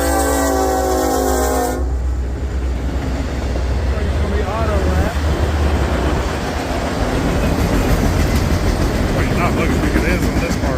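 A Norfolk Southern freight train hauling Conrail cars rolls past close by, opening with a loud horn blast that cuts off after about two seconds, then a steady heavy rumble and clatter of wagons.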